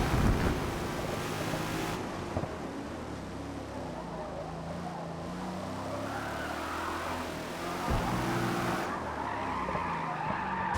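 A Holden Torana A9X race car in Forza Motorsport on the VIR North circuit skids at length, with continuous tire squeal over a loud, steady engine drone.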